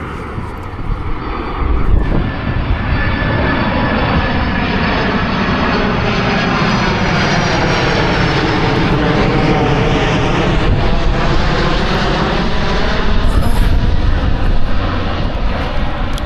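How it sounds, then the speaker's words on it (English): A fixed-wing airplane flies overhead, its loud engine drone filling the whole stretch with a steady roar that slowly shifts in pitch as it passes, and nobody speaks. "Of course the fucking plane comes as soon as I turn on the camera"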